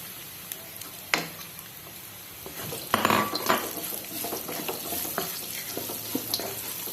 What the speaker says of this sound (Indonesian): Masukkan wortelnya dulu sambil kita aduk-aduk terus.